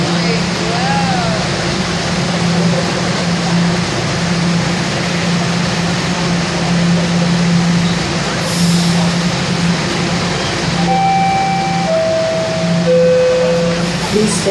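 A Toronto subway train runs at steady speed, giving a loud continuous rumble and hum inside the car with rail noise throughout, and a brief rising electronic tone sequence near the end.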